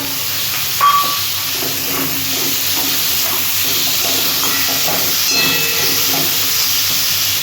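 Chopped tomatoes tipped into a pan of frying onions for a fish curry, giving a steady close hiss and sizzle with a brief clatter at the start and light stirring sounds.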